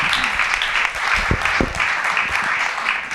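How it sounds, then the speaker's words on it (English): A crowd applauds a panel of speakers at a round-table event on science research, with steady, dense clapping that holds through the whole stretch and a faint voice or two underneath. "A huge round of applause to our panelists here."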